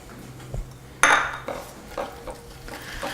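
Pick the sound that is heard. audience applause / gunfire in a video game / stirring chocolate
stirring chocolate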